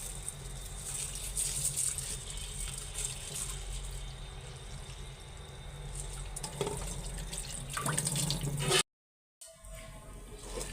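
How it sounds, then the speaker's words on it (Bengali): Red lentils are washed by hand in a bowl under running water, with a steady close splashing and trickling that cuts out briefly near the end before resuming. "যদি এখন ধুইয়া আমি হাতে মাখাইয়া রাইস কুকারে বসাই দিব।"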